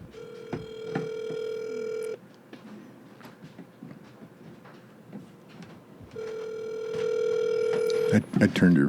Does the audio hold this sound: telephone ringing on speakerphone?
yes